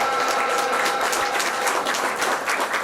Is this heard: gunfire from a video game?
no